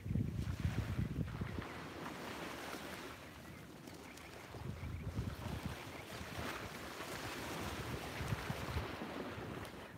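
Ocean waves wash onto a beach at sunrise under gusting wind, a continuous rushing surf that swells and recedes with heavy wind buffeting on the microphone.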